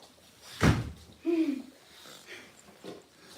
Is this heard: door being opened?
yes